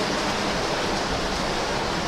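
Creek water rushes just above High Falls in DuPont State Forest, a dense, even roar of flowing water heard close and steady for a brief moment, with no other sounds.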